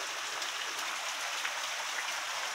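Heavy rain falls during a 1 a.m. storm in Guelph, a dense, loud, unbroken hiss of drops pouring down close by with no talking.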